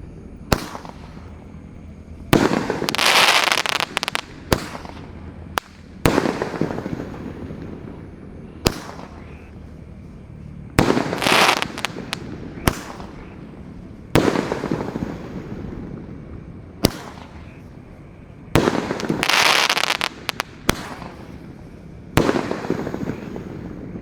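Large 1.9-inch Roman candle fireworks fire in a long, irregular series of loud, sharp bursts, some in quick clusters and others spaced a few seconds apart, each followed by a brief crackling tail.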